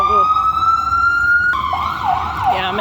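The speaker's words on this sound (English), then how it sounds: "It's always sirens" A loud emergency siren passes through a city neighborhood, holding a steady wail before breaking into a warbling yelp, close and dominant.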